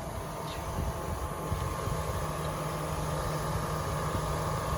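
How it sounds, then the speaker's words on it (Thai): A quiet, steady engine of a 2010 Toyota Camry 2.4 Hybrid sedan idles with a smooth, even hum and no change in pitch. "ผมจะให้มาฟังเสียงเครื่องยนต์กันนะครับ"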